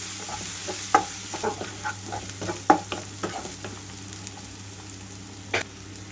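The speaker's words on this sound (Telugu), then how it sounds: "మీడియం ఫ్లేమ్లో ఉంచి అల్లం వెల్లుల్లి వేగే వరకు ఉంచుతున్నాను" Ginger and garlic fry in a pan over a medium flame for a curry, giving a steady low sizzle broken by scattered stirring scrapes and clinks, close and fairly quiet with no talk.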